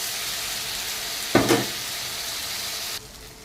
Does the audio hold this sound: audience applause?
no